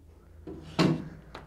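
A door panel sliding into a Virutex planer stand in a carpentry workshop, giving a short wooden scrape and a firm knock, followed by a lighter click, fairly quiet and close.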